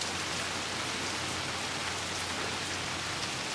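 Steady rain keeps falling outdoors under a gray sky, a dense, even hiss of drops on surfaces that holds without letup at close range and with no voices.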